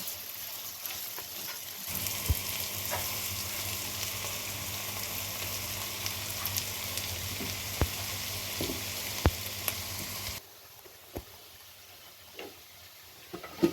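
Onions frying in oil in a pan make a steady, close sizzle with occasional ticks and spoon clicks, then the sizzle drops sharply near the end, leaving faint crackles and scattered taps.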